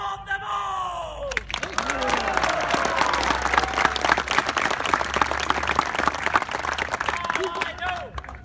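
A large crowd bursts into loud, sustained applause for soldiers after a brief spoken line, clapping dense and continuous with scattered cheers mixed in, tapering slightly near the end.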